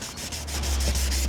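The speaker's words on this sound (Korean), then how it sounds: "이걸로 1차 샌딩 작업한 이후에 마무리는 2000방 사포로 마무리 할 겁니다" Fine-grit sandpaper is rubbed against a plastic car headlight lens in steady, rhythmic back-and-forth strokes, close and even, with no talking.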